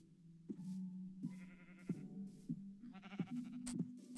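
Sheep bleating in Minecraft, several short nasal bleats spaced through the clip over a soft low hum, with light clicks and rustles between them.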